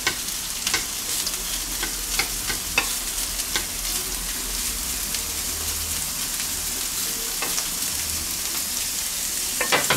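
Bacon sizzles and spits in a frying pan, a steady crackling fry that runs loud and close for the whole stretch, with scattered sharper pops and no voices over it.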